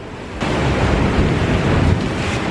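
Huge ocean waves pound a beach house in Malibu, California, with the water up to the house, a loud continuous roaring surge that swells in abruptly and stays heavy, with wind buffeting the microphone.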